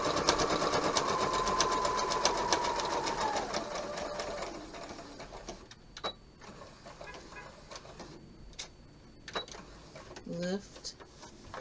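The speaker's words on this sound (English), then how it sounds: "line my presser foot up with the edge of that first row of stitching. And I'm just going to quilt." A sewing machine quilting a table topper runs in a steady, fast mechanical whir for about four seconds, then stops, followed by scattered clicks and handling sounds near the machine and a brief voice near the end.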